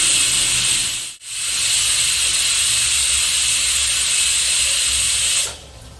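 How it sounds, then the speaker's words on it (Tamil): A pressure cooker cooking black chickpeas lets off a loud, steady hiss of escaping steam that drops out for a moment, roars on for several seconds, then cuts off near the end. "மூணு விசில் வந்துருச்சு."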